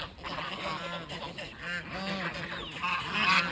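A flock of ducks on muddy village ground honks and quacks in a dense, overlapping chorus, with calls repeating steadily and fairly close throughout.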